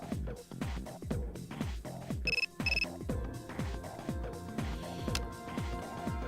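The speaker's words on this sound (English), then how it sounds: "I'm getting a text message from Akihiko" Two short electronic beeps of a text message notification ringtone from the Persona 3 video game, heard over rhythmic background music.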